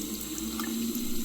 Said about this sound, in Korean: 세면대에서 물이 졸졸 흐르는 소리가 들렸다.